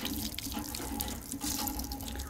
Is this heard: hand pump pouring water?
yes